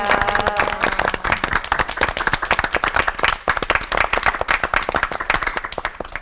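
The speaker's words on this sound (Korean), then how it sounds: "세 분의 목사님께 큰 박수 보내드리고 싶습니다" Applause from a studio audience at a Korean Christian TV lecture program, many hands clapping in a loud, close, steady patter throughout, with a brief musical tone at the start.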